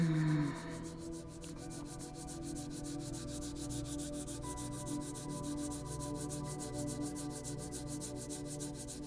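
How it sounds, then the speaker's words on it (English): Palms of the hands rub together vigorously and continuously in a calm meditation setting, a steady close brushing friction that goes on throughout after a brief hum at the start. "beginning to rub the palms of your hands together vigorously"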